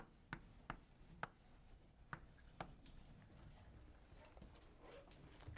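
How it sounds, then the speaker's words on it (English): Chalk or marker drawing on a board during a robotics lecture: a few sharp taps and strokes at an irregular pace, fairly faint in a quiet room, with scratchy rubbing that fades toward the end. "Let me draw it here."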